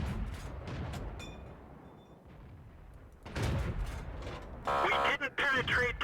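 Tank main gun shots firing standard ammunition at an enemy tank in World of Tanks, several heavy booming reports with rumbling decay, a loud burst of game sound near the end.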